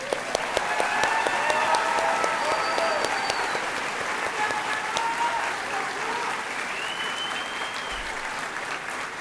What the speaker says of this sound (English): I think we have to give them one more round of applause.